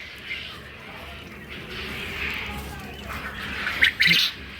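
Soft background hiss, then a few sharp, squawky quail calls near the end, in two quick bursts close together.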